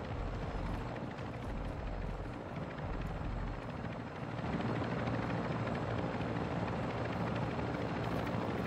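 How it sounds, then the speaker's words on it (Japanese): Helicopter in the video game DMZ (Call of Duty) hovering close by, a loud continuous rotor and engine roar that holds steady for the whole stretch, swelling slightly in the second half, with no one talking. "なんならヘリここに着陸してくれていいんだけど"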